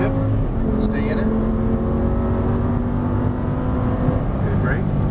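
An Audi R8 engine on a race track pulls hard after an upshift, a loud, steady drone from inside the car with a voice speaking over it.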